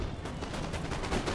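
Dense, continuous crackle of massed musket volleys during a siege battle in Empire: Total War, many overlapping shots rolling together at steady loudness with no talk.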